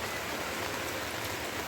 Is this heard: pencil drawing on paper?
no